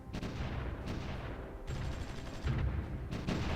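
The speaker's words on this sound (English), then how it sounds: "there's a fair bit of artillery there" Continuous battle noise in a strategy video game, with artillery fire rumbling in heavy, overlapping booms that keep up a steady roar for the whole stretch, with no voices.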